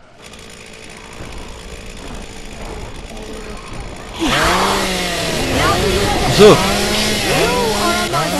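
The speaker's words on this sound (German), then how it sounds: "Ja, eine schöne Kettensäge" Chainsaw in the zombie action game Dead Island Riptide, a revving engine whine that grows loud after a quieter stretch and repeatedly surges and dips in pitch, with someone talking over it.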